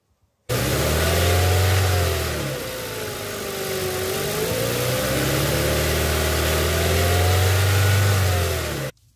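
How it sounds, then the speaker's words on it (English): A car engine runs at idle and is then revved to higher RPM during an alternator test, a loud, close, continuous hum that rises, dips and climbs again before cutting off at the end. "Now I will increase the RPM."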